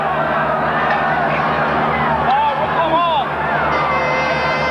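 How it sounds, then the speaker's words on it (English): An Auckland rugby crowd at a 1980 Auckland versus Waikato match keeps up a continuous roar, with whistles rising through the din and voices mingled in. "the Auckland crowd really getting into it now"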